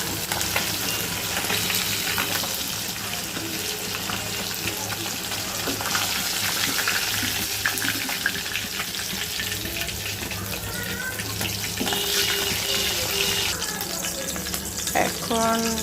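Tilapia fish frying in oil in a home kitchen pan, a steady broadband sizzle that carries on without pause, with some clinking and running-water noises from the sink mixed in near the end.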